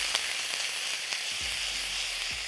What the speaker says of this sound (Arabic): بعد كده هنزل بالثوم عليه، مع الصلصه، وما اخليش الثوم بتاعي يتحمر قوي، اقوم نازل عليه بالصلصه كده على طول اهو